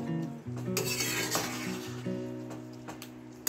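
Food stirred in a cooking pan while preparing butter chicken: scraping and rubbing of a utensil against the pan with light sizzling, over a steady tonal hum, with no talk.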